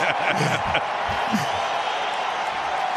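A baseball stadium crowd at a Brewers–Cubs game sends up a steady, distant roar of cheering that rises and holds, with a few louder whoops near the start.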